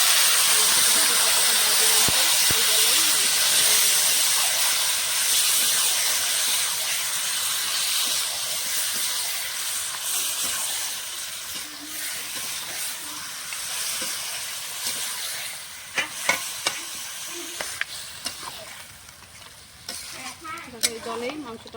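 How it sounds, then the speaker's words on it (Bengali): Marinated chicken pieces for Bengali kosha mangsho drop into hot oil with a loud, steady sizzle and hiss that slowly fades and thins, broken near the end by scattered stirring clicks and scrapes. "ম্যারিনেট করা মাংসটা দিয়ে দেবো"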